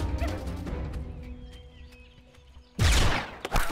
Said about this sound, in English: That sounded like a gunshot.